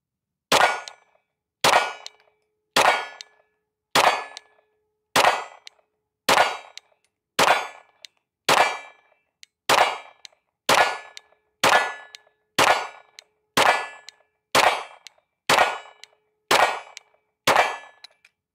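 Steady series of sixteen loud, evenly spaced pistol shots from a Palmetto State Armory Dagger, a budget Glock clone, fed from an ETS magazine on a range, each a sharp crack with a ringing tail.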